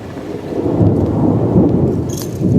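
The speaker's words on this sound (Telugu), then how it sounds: "ఈరోజు అయితే బీభత్సంగా వర్షం కురుస్తుంది" Heavy rain falls near a house with thunder, a loud, continuous rumbling wash of downpour and low thunder rolling throughout, with no voices.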